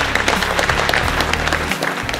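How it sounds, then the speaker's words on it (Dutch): Applause from diners at a New Year's dinner greeting a professor, a dense steady wash of clapping that holds throughout, with a low hum of music or room noise underneath. "Mag ik een daverend applaus voor professor Eifinger."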